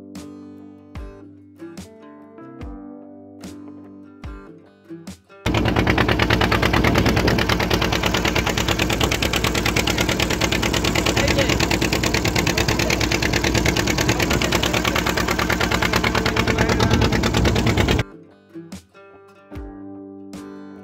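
A ferry boat's motor at a river ghat on the way to Mousuni Island, starting abruptly and chugging loud and steady for about twelve seconds before cutting off, with water and ambient knocks around it.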